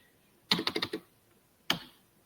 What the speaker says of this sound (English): I'm going to go back to typing out that address. I'm doing so very slowly.